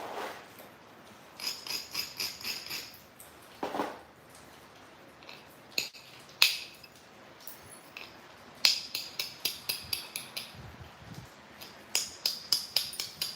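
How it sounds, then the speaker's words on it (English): Stone knapping at a live session: sharp taps and clicks of a tool striking flakes off a stone edge, coming in scattered single strikes and then quicker runs of close, crisp hits. "Bevel this side back a little bit because I want to shoot a couple flakes off of here."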